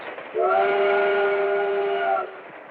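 A Lionel model train from an old TV commercial sounds a steady, chord-like whistle that holds loud and even for nearly two seconds before cutting off, with no voices over it.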